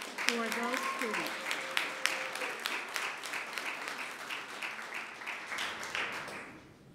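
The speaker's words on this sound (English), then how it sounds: "would you please give a big round of applause again for those students" Scattered applause for students at a Phi Theta Kappa ceremony at Merritt College, fairly faint and distant, with distinct individual claps that thin out toward the end. A voice speaks briefly at the start.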